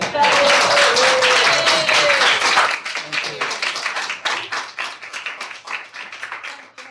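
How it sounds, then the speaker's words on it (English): Applause from an audience after a lecture on blindness and seeing, dense and loud at first, then thinning into scattered individual claps that fade out. "I think David definitely deserves a big round of applause."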